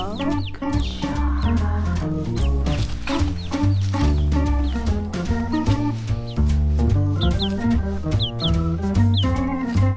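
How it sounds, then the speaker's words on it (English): Ten new White Leghorn and ISA Brown chicks on a homestead give repeated high, rising peeps and soft clucks, scattered throughout against a dense, steady musical backdrop. "We have 10 new chicks that we brought onto the homestead for this year."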